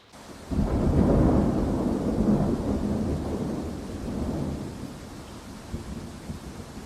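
A deep roll of thunder rumbles through steady rain, loud at first and then slowly fading while the downpour continues.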